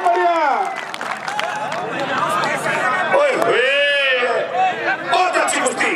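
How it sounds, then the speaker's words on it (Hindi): Spectators clapping at an outdoor kushti wrestling bout, a scattered crowd applause with background chatter, mostly buried under a loud announcer's amplified voice. "भाइयों को दोनों के लिए ताली बजाइए"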